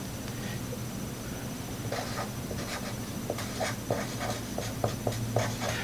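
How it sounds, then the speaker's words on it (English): A pen scratches across paper as a calculation is written out by hand, with soft continuous strokes and a run of small taps for digits and symbols, close up over a quiet room hum. "So I write out the whole thing"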